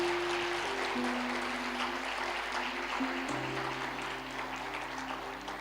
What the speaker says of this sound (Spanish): darle un fuerte aplauso a Cristo